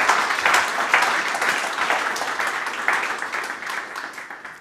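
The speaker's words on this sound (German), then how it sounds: "Ein Applaus, genau, hat er verdient." An audience at a logistics real estate conference bursts into sustained applause after a keynote. The many hands clap together densely, and the sound fades slightly over a few seconds.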